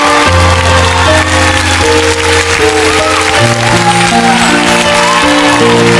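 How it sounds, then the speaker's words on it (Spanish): A studio audience on the Parodiando TV show applauds loudly and cheers over a blaring musical fanfare, with shouts mixed into the dense, continuous clapping. "Fuerte el aplauso para Roberto Rivas, por favor"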